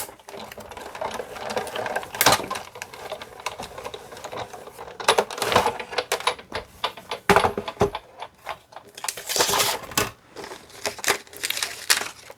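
A Sizzix Big Shot die-cutting machine cranks through a cut, giving close, irregular clicking and grinding bursts in uneven clusters without any speech.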